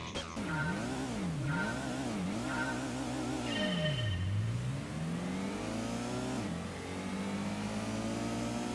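Honda NSX engine in Gran Turismo 1, revving up and down through repeated gear changes with a rising and falling whine, then a deep dip and a long climb in pitch, loud and continuous with no talking.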